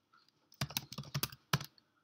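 Rapid keystrokes on a computer keyboard entering a Grails 3 create-app command in a terminal, several quick clustered clicks followed by one sharp final tap, close and clear with no voices.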